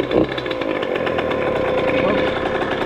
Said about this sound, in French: la moto, elle démarre